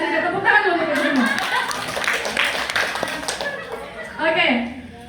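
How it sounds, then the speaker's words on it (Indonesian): Teachers at a counselling workshop at SMAN 1 Sinunukan clap together as a group, moderately loud, with talk and a chuckle mixed in partway through. "Tepuk tangan dulu untuk semua."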